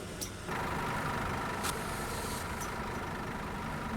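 Scania 121 touring bus engine idling in Tourist Bus Simulator, a steady low drone throughout with a brief hiss like an air brake release near the start and faint clicks.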